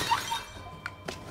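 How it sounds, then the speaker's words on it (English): Clay vases smash in the Children of Morta video game, two short, sharp shattering cracks in quick succession over a soft game music bed. "I'm just going to shatter each one of these vases because they can have money in them."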